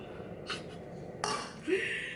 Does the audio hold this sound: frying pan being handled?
yes